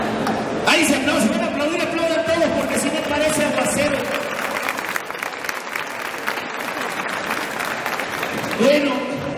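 Audience at a live comedy show bursts into applause, a full, sustained clapping that carries on beneath a talking voice, swelling briefly again near the end.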